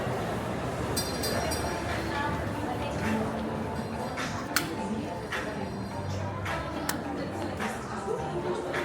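A passing train rumbles steadily beside a busy spot in the Philippines, with several sharp clanks and bangs over the noise while people talk and chatter nearby.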